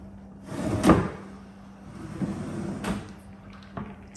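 A bathroom vanity cupboard door is opened and closed, giving a firm knock near the start, then softer wooden bumps and a light click at the end, close by in a quiet room.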